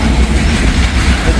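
Loaded coal cars rolling past close by in Wyoming, a loud, dense rumble with rhythmic clickety-clack of wheels over rail joints.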